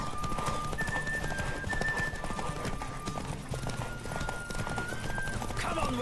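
Galloping horse hooves in The Witcher 3 pound steadily and loudly through the whole stretch, with a rushing game soundscape and some whistling tones layered on top.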